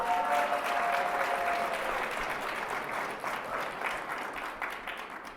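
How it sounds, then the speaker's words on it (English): Steady applause from a crowd, dense and sustained, gradually easing off toward the end. "Please give my beautiful wife a warm round of applause."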